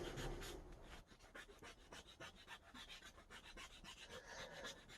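Needle file rasping inside a thick pure silver XLR plug, quick repeated close scraping strokes in an uneven rhythm, faint and alone.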